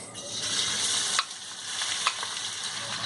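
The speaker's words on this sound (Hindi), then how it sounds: "प्याज को हम गोल्डन कलर आने तक फ्राई करेंगे।" Finely chopped onion frying in half a cup of oil over a medium-low flame, a dense continuous hiss with two brief scrape accents from stirring, close and even throughout.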